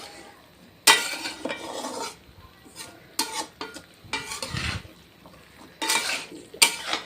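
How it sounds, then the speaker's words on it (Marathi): A Maharashtrian vegetable dish with crushed peanut powder stirred in a pan, intermittent bursts of spatula scraping and clinking against metal, close up, with quiet gaps between strokes and no talking. "आता याला आणखीन एकदा मिक्स करून घेऊयात म्हणजे शेंगदाण्याचं कूट एकदम असं सगळीकड छान असं लागलं पाहिजे"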